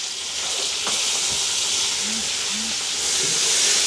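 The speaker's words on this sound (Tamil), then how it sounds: "பார்த்திங்கன்னா வெங்காயம் செத்தல் மிளகாயெல்லாம் எங்களுக்கு ஓரளவுக்கு பொரிஞ்சிட்டுது" Onion, dried chillies and curry leaves frying in a pan give a steady close sizzle and hiss throughout, with a few faint clinks and a voice speaking briefly under it.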